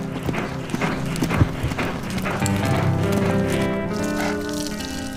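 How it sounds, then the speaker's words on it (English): Horses walk with steady clip-clopping hooves on a hard surface after training, the hoofbeats close and continuous with no talk, for the Blackfoot in Canada. "the horses are given a shower and a gentle walk"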